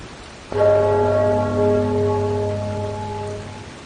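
A single bell struck in the video game Enderal, a clear resonant tone with a sharp onset that rings out and slowly fades over several seconds.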